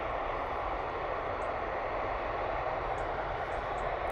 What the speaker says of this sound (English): It's the ATR 72 coming in from Belfast